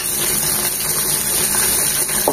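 Chopped small shrimp, coated in salt and turmeric, dropped into hot oil, giving a loud, dense, steady sizzle that fills the whole moment without pause.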